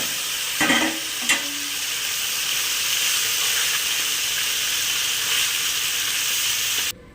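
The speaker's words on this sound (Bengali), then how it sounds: "এবারে আমি কুচি মাছটা ভেজে নেব" Small chopped fish frying in hot oil in a wok gives a close, steady sizzle and hiss, with a couple of clattering stirs near the start. The sound cuts off abruptly at the end, and no one speaks.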